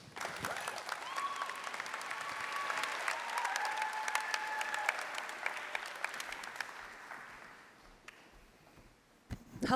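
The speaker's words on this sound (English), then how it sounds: "Can we give them another round of applause?" An audience applauds at a university student-success event, with dense, sustained clapping that swells and then thins out toward the end, along with a few faint cheers in the background.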